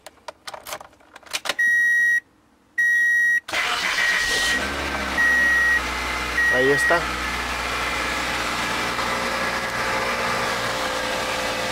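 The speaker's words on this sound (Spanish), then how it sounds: "lo que voy a hacer es intentar arrancar el auto" Car with a new starter motor, after a fault where it only clicked and would not start. Electronic chime beeps and clicks come first, then the engine cranks and catches into a loud, steady idle, with someone speaking briefly.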